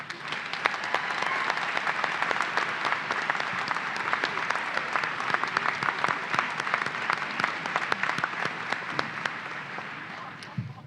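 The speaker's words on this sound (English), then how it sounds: "Please join me in a round of applause thanking Dr. McMillen and wishing her well in her retirement." A large audience at a university commencement ceremony claps steadily for a retiring faculty member. The applause is thick and sustained, with individual sharp claps poking through, and it holds at an even level for about eleven seconds.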